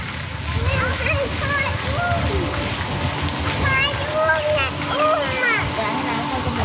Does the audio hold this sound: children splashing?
yes